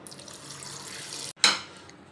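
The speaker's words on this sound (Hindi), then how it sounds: "इस सब के साथ मैं इसके अंदर इतना पानी डालूंगी जिसमें ये भीग जाएं" Water splashes in a short, close pour over black chickpeas mixed with chili, turmeric, coriander and garam masala for a street-style chana chaat. It begins with a sharp onset and trails off over about a second.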